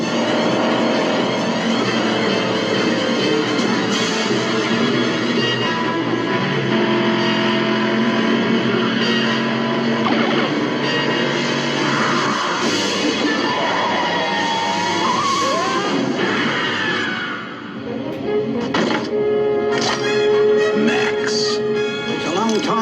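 The V8 Interceptor car from the Mad Max 2 film roars loudly and continuously, its engine blended with a dense film soundtrack and voices, briefly dipping before surging again.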